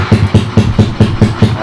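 A motorcycle engine idles just after a voice-command start, a loud, steady low pulsing chug with an even beat and no talk over it.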